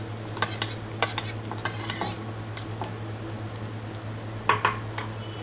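Green chillies go into a pan and are stirred, with clinks and scrapes of a spatula over a soft frying sizzle and a steady low hum. The sound is close, with irregular bursts of clatter.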